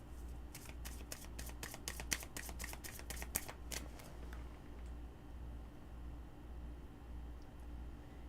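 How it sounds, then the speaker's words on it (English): Tarot cards being shuffled, a rapid flurry of crisp riffling clicks for about four seconds, then fading into a quiet steady hum. "I'm shuffling the cards."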